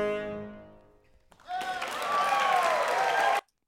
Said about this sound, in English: let's see how long this applause is